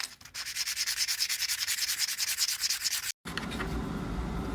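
A plane iron is rubbed back and forth on 400 grit abrasive in quick, even strokes, close and rhythmic. After a brief silence comes a softer, steadier scrubbing.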